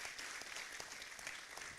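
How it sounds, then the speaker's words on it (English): A conference hall audience at an African architecture students' congress breaks into a round of applause, a soft, even wash of many hands clapping, heard from a distance. "So a big round of applause for that as well."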